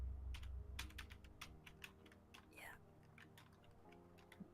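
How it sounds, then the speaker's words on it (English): Fast, hard tapping on a computer keyboard during a dragon game stream: rapid, irregular clicks cluster in bursts over a steady low hum, close and moderately loud, with a brief sliding game tone partway through. "you hear my keyboard"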